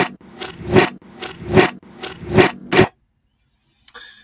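A reversed door sound: four swelling rasping creaks, each building and cutting off abruptly, followed by silence and a faint brief click.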